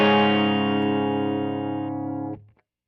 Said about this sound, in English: let's set it up for a modern hard rock heavy distortion.